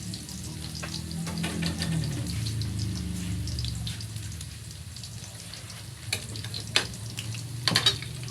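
Garlic and onion frying together in a pan for adobo, a steady close sizzle with occasional stirring scrapes and clinks toward the end.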